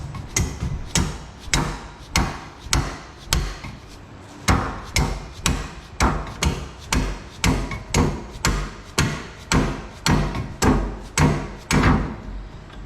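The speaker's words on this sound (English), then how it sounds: "you just need something that's going to have a bite on the torsion bar so you can tap it out" A torsion bar in a truck's front suspension being tapped out with a hammer against vice grips clamped on it: about two dozen evenly spaced, loud metallic blows in a steady rhythm, close up, with no talking.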